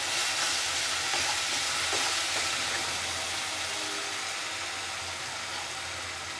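Garlic ginger paste sizzles loudly in a pan with fried onions, a steady dense hiss filling the whole stretch without pause, easing slightly toward the end.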